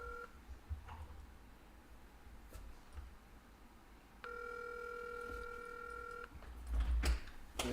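A telephone call is placed: faint tones come first, then a steady two-tone ringback plays for about two seconds before stopping. Low room noise continues throughout, with no talking.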